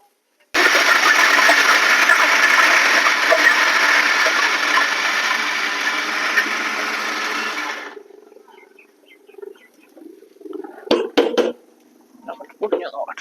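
A kitchen mixer grinder crushes a whole coconut with a loud, harsh, continuous whirring roar for several seconds, then cuts off, leaving quieter clinks and handling noises.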